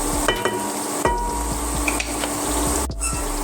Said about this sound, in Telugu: ఆనియన్స్ ఇంకా పచ్చిమిరపకాయలు మంచిగా వేగుతున్నాయండి ఆయిల్లో.